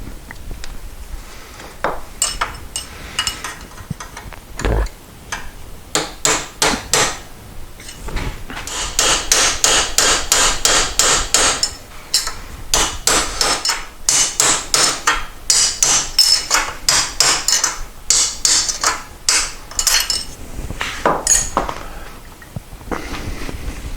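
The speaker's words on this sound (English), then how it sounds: "the fun part is going to be hammering up from the bottom to get the top one out" Repeated sharp hammer blows ring on metal while driving apart the steering and front end parts of a 1973 Moto Guzzi motorcycle, in fast bursts and steady runs, loud and close, with brief pauses between series.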